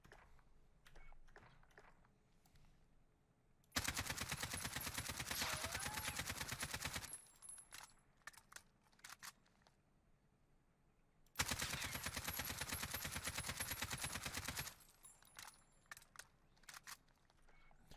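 An AK-47 fitted with an RPK barrel and monolithic suppressor fires in Warzone: two long sustained automatic bursts of several seconds each, loud and rapid, separated by quieter clicks and handling noises.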